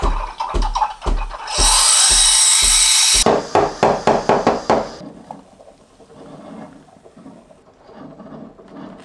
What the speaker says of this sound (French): Ce lait mousse tellement que j'en fais toujours trop alors que j'en mets même pas tant que ça.